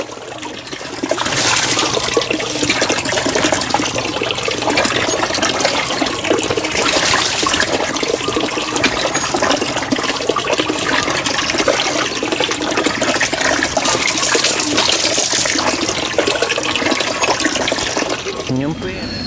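Water pours and splashes steadily during a man's bath, with soap scrubbed on, a continuous loud wash that runs almost the whole time with voices under it.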